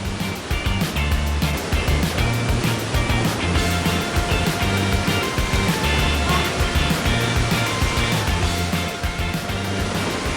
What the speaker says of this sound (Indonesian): Inilah dia hidden gem-nya, namanya adalah air terjun dalam goa.